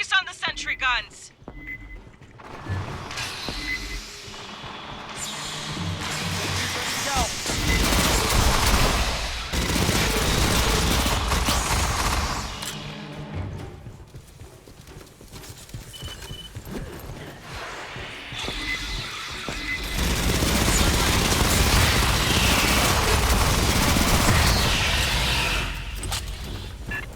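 Sentry guns in Aliens: Fireteam Elite firing on an alien swarm, giving sustained dense gunfire mixed with screeches, impacts and game effects. The noise rises and falls in loud waves and continues throughout.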